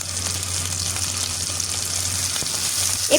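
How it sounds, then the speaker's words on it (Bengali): Chicken pieces fry in a pan grill style, turned now and then to char them, giving a steady, close, loud sizzle that runs unbroken, with a few faint stirring clicks near the end. "কিছুক্ষণ পরপর এপিটোপিট উল্টে আমি ভেজে নিব অনেকটা গ্রিলের মতো করে আমি পোড়া পোড়া করে ভেজে নিব"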